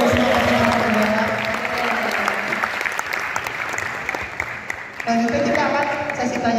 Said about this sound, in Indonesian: Boleh tepuk tangan dulu ya buat teman-teman biar semangat.